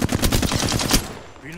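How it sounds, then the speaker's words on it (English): Rapid automatic gunfire in a video game, a dense burst of close, loud shots lasting about a second before trailing off. "Listen up, I'm getting shot at."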